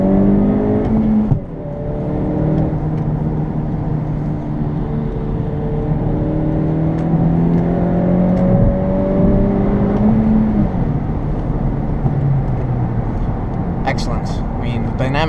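A 2017 Honda Civic Hatchback Sport with a manual gearbox pulls hard on a highway, its engine note climbing steadily through the gears with brief drops at each shift, while a person talks over the cabin drone.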